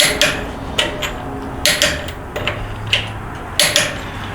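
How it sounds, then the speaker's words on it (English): Torque wrench going over each lug nut on a vehicle's wheel during a transmission install, giving a string of sharp metallic clicks and taps at irregular intervals, close and fairly loud with no talking. "we are going to torque the lug nuts using a torque wrench, not an impact"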